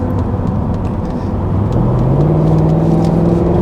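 A Jaguar XKR with a 510 bhp engine cruises at a steady 50, its low engine drone holding an even pitch and rising slightly partway through, loud and close from inside the car.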